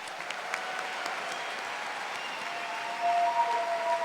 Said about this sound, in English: let's have one more round of applause for the graduates of the Departments of Parks,